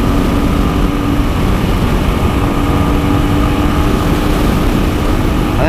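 A motorcycle engine drones steadily throughout while riding on the road, a loud continuous low rumble mixed with wind roar, with no talk.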